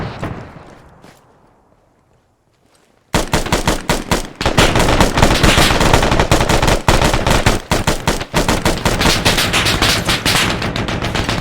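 Sustained machine gun fire in the Arma 3 military simulation game: after a near-silent pause, loud, rapid, continuous bursts of shots hammer without letup, close and heavy.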